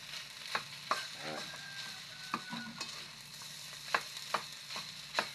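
Fried rice stirred in a pan with a ladle, quiet sizzling under sharp intermittent scrapes and clinks of the utensil against the metal.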